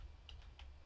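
Light typing on a computer keyboard in a browser's developer console, just two or three soft, quiet key clicks against a low background hum.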